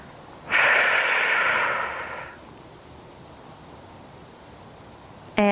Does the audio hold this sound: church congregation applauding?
no